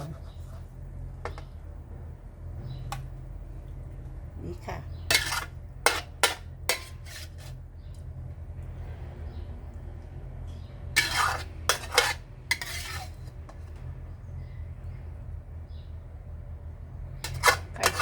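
Chicken stir-fried with red curry paste and bamboo shoots in a pan, a steady low sizzle under repeated sharp clinks and scrapes of a utensil against the pan, with a voice talking at times.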